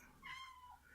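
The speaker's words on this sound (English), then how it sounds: "That's my cat." A pet cat gives a single short, faint meow, close by in a quiet room where a lock is being picked by hand.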